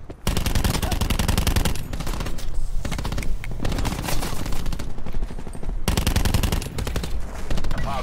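Sustained rapid gunfire from a Mastercraft weapon in a first-person shooter during a hardpoint match, loud, dense bursts nearly filling the stretch with brief gaps between volleys.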